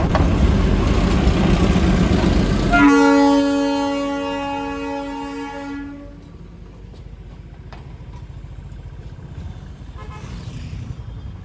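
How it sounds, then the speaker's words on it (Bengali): The Darjeeling toy train passes through Kurseong town with an engine rumble, then a long, loud horn blast rings out for about three seconds. It fades into quieter engine idling and street background. "এই সেই টয় ট্রেন, ছোট থেকে বড় সবাইরই এই টয় ট্রেন চাপার জন্য এত অস্থিরতা কাজ করে।"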